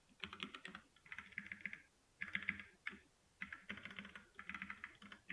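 Rapid typing on a computer keyboard in a Linux editor, close and clear, coming in bursts of clicking keystrokes with short pauses between groups, with no talk over it.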